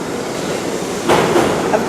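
A subway express train rumbles past at close range, a steady loud rolling roar with a brief surge of rattling wheel noise partway through.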